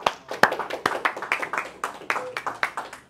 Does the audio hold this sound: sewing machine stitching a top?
no